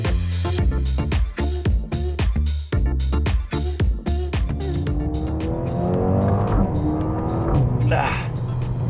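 A Mercedes A35 AMG is driven hard through mountain-pass corners. The engine note rises and falls in quick throttle pulses as it revs and shifts, tires squeal through the bends, and the cabin sound stays close and loud.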